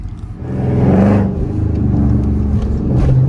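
A Dodge Scat Pack's engine revs up loudly as the throttle is pressed, a close, steady rumbling roar that swells and holds across the moment with no talking.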